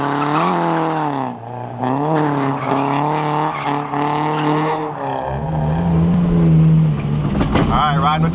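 A car drifting at a speedway drift event: a loud, close engine rises and falls in repeated revving surges, with harsh tire squeal and skidding noise over the top throughout.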